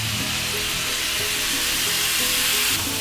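Roma tomatoes frying with browned onions in a pan for palak paneer, a steady close hiss of sizzling that runs evenly throughout with faint clinks underneath.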